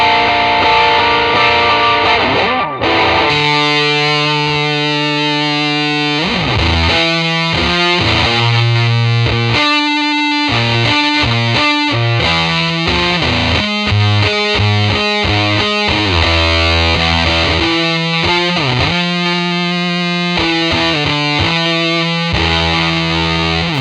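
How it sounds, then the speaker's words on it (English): Electric guitar strummed through a Big Muff fuzz pedal, thick and heavily distorted, with loud sustained chords that shift in a steady progression over about twenty seconds, no talking. "The settings I like to use for this section is pretty much just the big muff."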